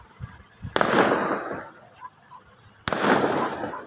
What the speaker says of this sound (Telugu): క్రాకర్స్ పేల్చుతున్నారు టీడీపీ గెలిచిన సందర్భంగా